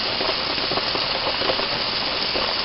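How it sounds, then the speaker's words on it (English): A bath bomb fizzes in water in a bucket, a continuous close hiss of crackling bubbles that stays even throughout. "Alright, so we definitely have some fizzing going on."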